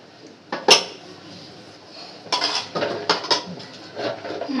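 Metal pot and lid clanking as mutton goes into a pressure cooker in a home kitchen, a sharp clang followed by several bursts of rattling and scraping, close and fairly loud.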